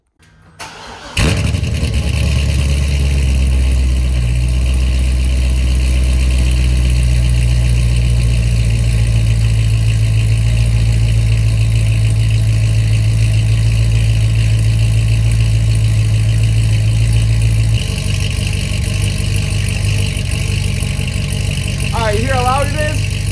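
A C6 Corvette fitted with long tube headers and the NPP valved factory exhaust cranks over and fires up, then settles into a loud, rumbling idle close by. The tone shifts partway through, and a voice is heard briefly near the end.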